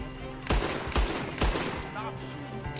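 Gunfire in the Red Dead Redemption 2 video game, a loud run of roughly four sharp shots about half a second apart, with game sound and a bit of speech underneath.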